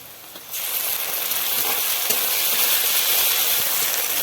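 Chopped onion with garlic, ginger, green chili and cumin pastes dropped into hot oil, bursting into a loud, continuous sizzle after a quieter start, with faint stirring underneath.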